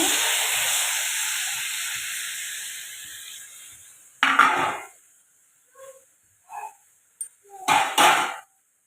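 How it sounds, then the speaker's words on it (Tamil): Tomatoes frying in a pan over a flame give a steady hissing sizzle that fades over about four seconds, followed by a few short clattering knocks of utensil against pan. "தக்காளி நல்லா வதங்கட்டுங்க. தீ வச்சிட்ருக்குறேங்க."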